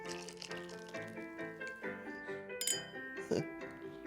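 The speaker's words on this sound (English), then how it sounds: "The glass clicking." Glasses clinking at a wedding, several light glassy chinks and taps scattered over a bed of soft music and room murmur, fairly quiet and close.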